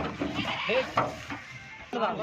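At a goat farm, goats bleat while being loaded one by one for delivery. Several short, wavering cries come up close in quick succession over a busy, noisy background.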